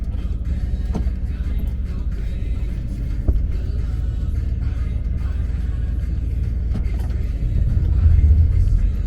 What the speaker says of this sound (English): there was a truck coming through with a big bass boat